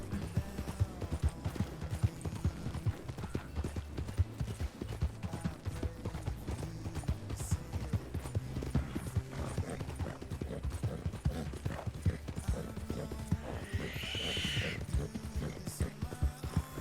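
Hooves of a cheap paint horse clip-clop steadily in the RedM roleplay game, a dense continuous trot with faint mechanical rattles and a brief whinny-like burst near the end, no talk.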